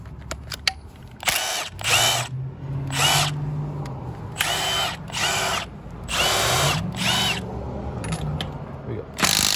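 Milwaukee M12 Stubby impact wrench on a 6.0 battery removing a nut, several loud close bursts of rapid hammering, each lasting about a second with short pauses between.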